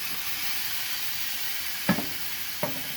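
Onion pieces sizzling on a GrillGrate over a grill, with a steady close frying hiss and two brief sharper pops or scrapes near the end.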